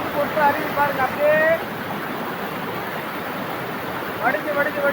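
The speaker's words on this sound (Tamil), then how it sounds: "மலை உச்சியிலிருந்து கொட்டு அருவி பாருங்க அப்படியே" A waterfall in Kerala pours down from a mountain top with a steady, loud roar, and a few thin, high chirps rise briefly over the rushing water.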